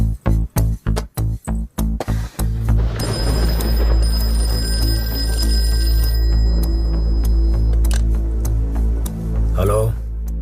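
A telephone rings in a Telugu film scene: a quick series of sharp, evenly spaced pulses, then a steady sustained tone layered over background music, close and fairly loud.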